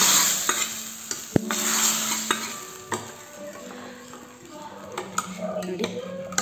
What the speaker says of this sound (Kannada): ಕರಿಬೇವು, ಒಂದು ಸ್ವಲ್ಪ ಹಿಂಗು, ಕೂಟೊಳಗಡೆ ಹಾಕ್ತಿದ್ದೀನಿ.